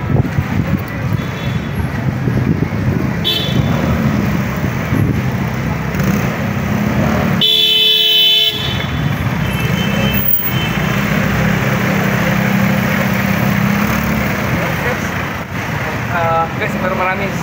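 Busy traffic on Ongpin Street in Binondo, Manila: a steady, loud wash of car and engine noise fills the street, with a sharp burst partway through, though no horns stand out clearly.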